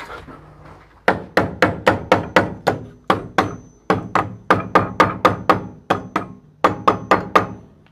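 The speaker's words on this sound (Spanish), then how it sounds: "Ahí tenemos que darle con el martillito" A small hammer taps repeatedly on a wooden window frame, a steady run of sharp, close knocks in quick bursts with short gaps between groups.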